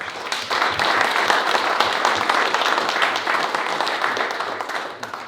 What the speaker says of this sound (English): I just want to give those guys a round of applause